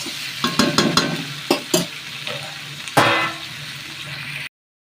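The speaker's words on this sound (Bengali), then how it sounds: "এবার এর মধ্যে আমি একটু মটরশুঁটি দিয়ে দেবো। দিয়ে এইবার আমি জল দিয়ে দেবো।" Peas and water go into a frying duck egg curry with cauliflower and new potatoes: sharp utensil knocks and stirring clatter over a steady sizzle, then a loud burst of hissing as liquid hits the hot pan.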